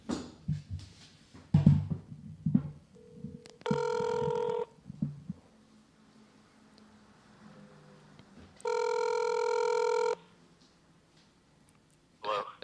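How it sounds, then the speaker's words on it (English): Telephone ringback tones on an outgoing call, two long, loud electronic rings separated by a pause, with brief talk and clicks before the first ring. "We're going to call Brent Weinbach right now"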